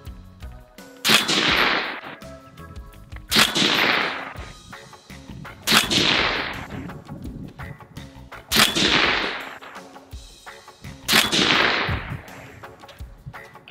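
A PWS MK216 Mod 1-M .308 piston AR-10 rifle fires Federal 168 grain rounds outdoors: five loud, sharp shots spaced about two and a half seconds apart, each followed by a long rolling echo.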